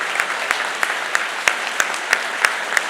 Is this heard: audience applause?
yes